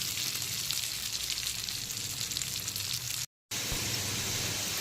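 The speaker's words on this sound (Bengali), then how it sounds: "একদম ডিপ ফ্রাই করে নিতে হবে" Potatoes deep frying in hot oil over a full flame, as part of a banana flower (mochar ghonto) dish. A steady, loud, dense sizzle runs throughout, with one brief complete dropout near the end.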